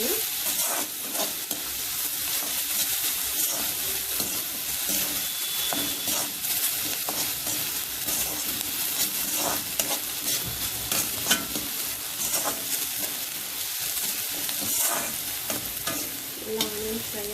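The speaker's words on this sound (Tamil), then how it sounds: "இதெல்லாம் ஆனியன் ஃப்ரை ஆகணுங்க." Onions fry in a pan for a black chana dish, a continuous crackling sizzle broken by frequent stirring scrapes and clatters, close up and steady throughout.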